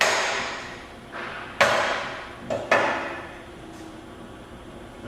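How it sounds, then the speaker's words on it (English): Lead hammer tapping on both ends of a shaft to seat taper roller bearings on roll forming equipment: a few sharp metallic knocks, three distinct and close, separated by quiet pauses. "you use a lead hammer to ensure that the bearings are seated"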